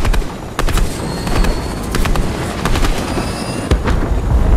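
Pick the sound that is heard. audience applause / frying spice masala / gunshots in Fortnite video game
gunshots in Fortnite video game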